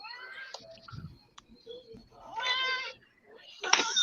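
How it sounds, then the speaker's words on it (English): A domestic cat meows a couple of times indoors, with short harmonic calls standing out near the microphone amid room noise and faint background activity. "I hear a kitty cat."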